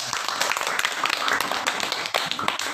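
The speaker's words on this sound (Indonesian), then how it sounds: "Ya, tepuk tangan." An audience at a santri competency exam claps in a short round of applause. The claps are fairly close, dense and irregular, with a few louder individual claps over about three seconds.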